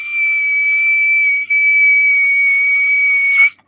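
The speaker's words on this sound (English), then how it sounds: "I told y'all I got whistle tone" A single very high, piercing sung note in whistle register, held steadily for over three seconds with a brief dip midway.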